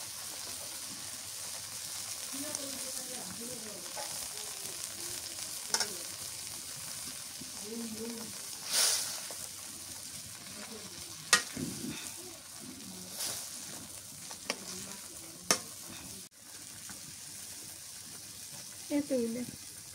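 Tomatoes sizzle quietly in a pan of egg curry with a little water, a low steady frying hiss broken by occasional scrapes and clinks of stirring, and a voice speaks briefly over it.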